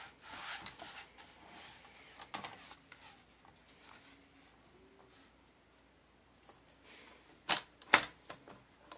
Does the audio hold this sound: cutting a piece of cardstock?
yes